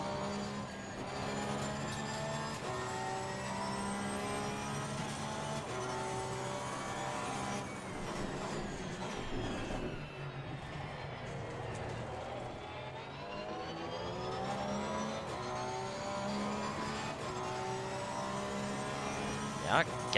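Porsche 911 GT3 R race car lapping Zolder circuit, its engine droning and rising and falling in pitch through gear changes with a steady whine, continuous and close from onboard, with a voice speaking over it.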